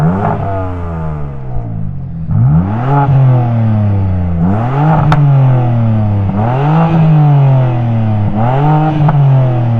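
A BMW car engine revving hard in a series of rising and falling pulls, roughly four strong throttle blips a couple of seconds apart, loud and close with no voices.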